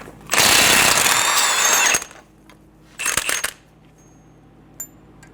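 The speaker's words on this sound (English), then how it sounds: "Using a 32mm socket, remove the axle nut." A 32mm socket on an impact tool breaking loose the front axle nut of a 2011-2014 Hyundai Sonata, with a loud sustained whirring burst for about a second and a half, then a shorter second burst and quiet shop background.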